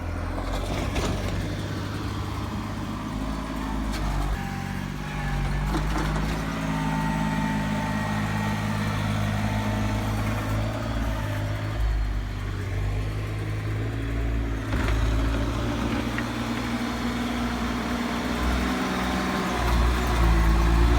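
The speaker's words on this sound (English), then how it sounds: "This is the tractor Daddy needs." A tractor engine runs steadily in snowy blizzard conditions, a low continuous rumble with no break, close by and fairly loud, with no speech over it.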